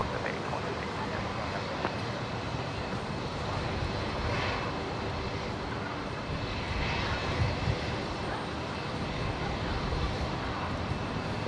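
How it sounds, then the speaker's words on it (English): Jetstar Airbus A321neo jet on the runway at Brisbane airport, giving a steady, loud broadband engine roar that holds throughout with slight swells, no other sounds standing out. "The 321 Neo in that beautiful new Jetstar livery."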